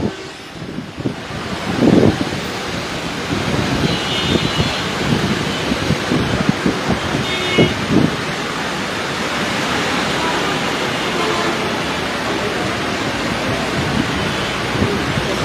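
Cyclone storm lashing Dhaka's Jatrabari area on the Dhaka–Chittagong highway, with a steady roar of heavy rain and wind and occasional louder gusts and splashes throughout.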